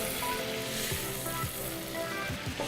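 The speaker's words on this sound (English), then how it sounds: "I'm going to be adding now the butter and the oil to this." Butter and oil go into a very hot pot and sizzle with a broad, steady hiss and a few sharp spits, close by and fairly quiet, no talk.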